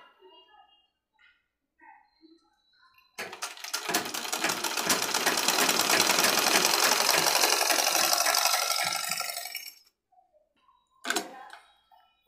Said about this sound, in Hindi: हम इसको इस तरीके से सिलाई मारेंगे